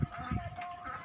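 Brooding hens, a small group of breeding ayam babon in an Indonesian poultry setup, cluck in a few low bursts close by, with soft background noise and no talking.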